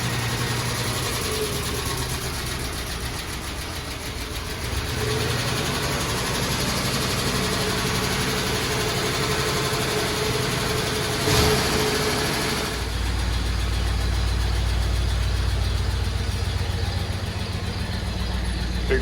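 A 1953 Meteor car engine idles steadily after a cold start, a continuous low mechanical rumble with ticking and whirring that shifts to a deeper, heavier tone partway through, heard close up with no speech.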